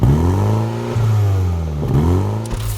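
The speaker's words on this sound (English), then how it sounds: "complementing the excitement is the soul-satisfying sound from the exhaust" A 2019 MINI John Cooper Works exhaust roars loud and close through repeated hard accelerations, with rising engine pitch falling back at each gear change before climbing again.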